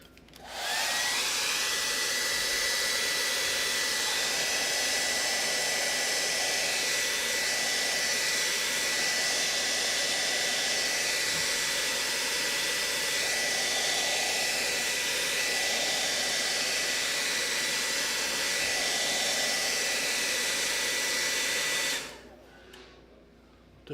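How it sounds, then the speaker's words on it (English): A hair dryer blows steadily at close range while drying part of a guitar case, with a loud, constant whoosh and motor whine, then abruptly shuts off near the end. "Let me put the hairdryer on that for a second."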